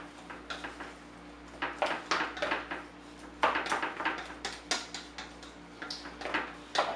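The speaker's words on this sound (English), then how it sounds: "We will go ahead and mix this up" Kibble and added supplement being stirred in a feeding bowl for an Ovcharka, heard as a steady run of close, light clinks and scrapes in irregular bursts, with no talking.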